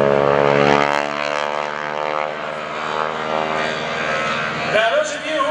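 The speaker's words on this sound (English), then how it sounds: "Carol on top wing of this biplane. This beautiful 1940 Stearman." A 1940 Stearman biplane's propeller engine drones loud and steady overhead at an airshow while a wingwalker rides the top wing, its rich harmonic roar shifting slightly in pitch near the end.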